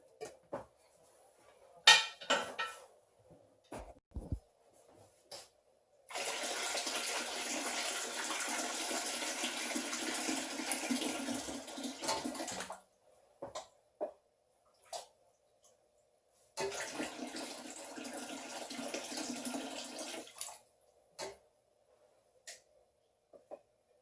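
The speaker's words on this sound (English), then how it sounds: "So I'm going to fill it with the water." Water poured from a tap into glass canning jars, the pouring being canned salmon and tuna, comes in two sustained rushing bursts of about six and four seconds, with scattered clinks and knocks around them and no talk.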